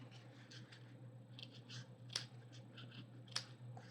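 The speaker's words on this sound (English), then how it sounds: "Just cut a little bit here. This one's pretty thick" Scissors snip through a thick fabric mailing envelope in a few faint, soft cuts, with two sharper, louder snips standing out over a steady low hum.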